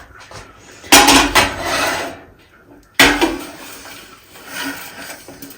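A large metal kitchen pot clatters and scrapes loudly in two bursts as a homemade winter laddu mixture is transferred into it, with softer rubbing and scraping in between.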